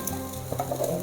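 Sabudana khichdi stirred in a hot pan, giving a steady soft sizzle with scraping and stirring bursts over about a second, close and fairly quiet.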